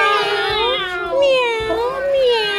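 A person imitates a cat with a couple of drawn-out, sing-song meows, close and fairly loud, during a children's game of follow-the-leader.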